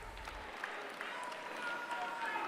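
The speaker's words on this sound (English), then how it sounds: "Here is former Speaker Gingrich acknowledging the cheers of the crowd." Convention crowd in Cleveland cheering and applauding for former Speaker Newt Gingrich, a dense continuous wash of clapping and cheering at moderate volume.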